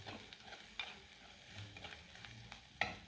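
Onion, green chili and ginger sautéed in oil for an anchovy kootu, a faint steady sizzle with a few soft spoon scrapes and knocks against the pan.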